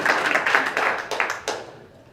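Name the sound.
audience hand clapping at a candidate forum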